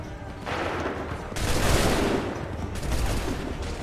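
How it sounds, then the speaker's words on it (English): Musket volley fire from soldiers in Assassin's Creed 3, a dense burst of overlapping gunshots that swells into a loud rolling crackle, with a second wave of shots toward the end. "Open fire."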